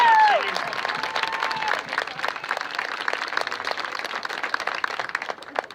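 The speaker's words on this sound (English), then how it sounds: "Yeah, give them a hand, go for it." A high school band's senior class receives a burst of applause from the audience, dense clapping that starts loud and gradually thins, with a brief voice at the start.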